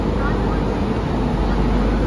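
A train engine idles at Kanpur Central railway station, a loud, steady low rumble filling the space without pause, with faint station murmur around it.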